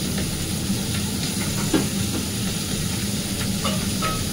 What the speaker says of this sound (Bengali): ওলটা সেদ্ধ করছি